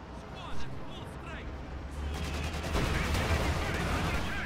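Battle sounds in a World War II real-time strategy game, with gunfire cracks and heavy anti-tank shots booming amid continuous rumbling combat noise, loud and dense throughout.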